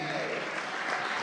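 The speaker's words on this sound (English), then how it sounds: "you should give yourself a big hand clap" An audience at an interfaith conference in the nation's capital breaks into brief, dense applause, close and fairly loud, with a voice speaking over it.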